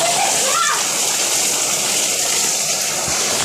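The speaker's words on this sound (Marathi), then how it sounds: "अरे पाऊस वाढला" Heavy rain pours steadily onto water, a loud, dense and continuous hiss of splashing drops with no break, close by and filling the whole scene.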